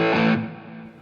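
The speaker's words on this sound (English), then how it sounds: "as I dial it all the way up, it gets distorted when I have the engage control locked in" A guitar pedal's distortion effect, a loud, harmonically rich sustained tone that fades out over about a second, heard alone.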